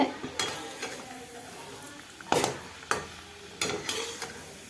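A cooking pot is picked up and set down in a home kitchen while wheat biscuits are fried in oil, making several sharp metallic clanks over a faint background sizzle.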